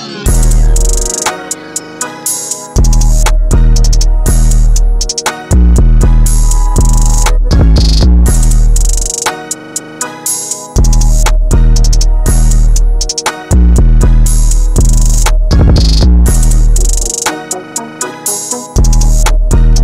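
A loud trap beat made in FL Studio plays in full, with a booming 808, rapid hi-hats, rim shots and a reverse open hat that swells into repeating bar-length phrases, with no talking.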